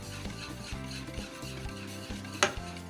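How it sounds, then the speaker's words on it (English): Fermented milk is mixed into a pancake batter of egg, butter and milk, heard as soft, rhythmic rubbing and stirring strokes in a bowl, close and quiet, with one sharper clink near the end. "And then I'm going to just mix it in to our egg, butter, and milk mixture"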